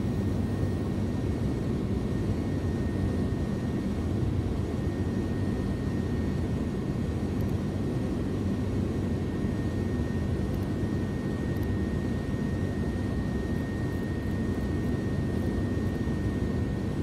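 Airbus Beluga ST jet engines in X-Plane 12 give a steady, loud broadband roar with a faint constant whine above it, unchanging and continuous throughout with no voices.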